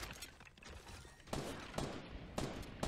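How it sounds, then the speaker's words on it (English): Gunfire in the Fortnite video game, a series of sharp broadband shots at a steady spacing, loud and close over a busy background, with no talking. "I'm just shooting all the way across"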